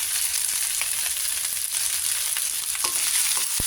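Leftover rice (sinangag) frying in a pan, a loud continuous sizzle with occasional stirring scrapes and small pops, close up.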